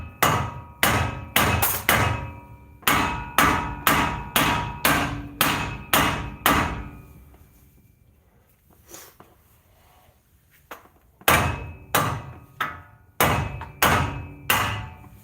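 A hammer strikes a car's tie rod from below to pop it loose, delivering rapid sharp metallic blows in two long runs separated by a quiet pause, loud and close.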